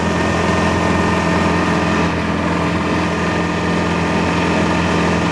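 A 1929 Austin 7 Chummy engine labors steadily at low revs climbing a hill at about 15 mph, a constant droning hum with a rough low throb and no break.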